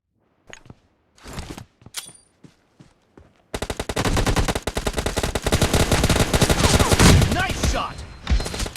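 PUBG gunfire: a few sparse single shots and short bursts, then a dense, loud, continuous stream of rapid automatic fire lasting several seconds.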